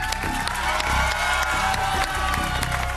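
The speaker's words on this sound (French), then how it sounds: "je vais vous applaudir bien fort avec le public" A studio audience at a French children's game show applauds and cheers, a continuous crowd roar with claps and whoops layered over a steady musical bed.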